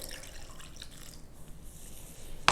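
Water and vinegar are poured into a cucumber salad, giving a soft, continuous trickle of liquid that ends in a brief sharp splash or clink.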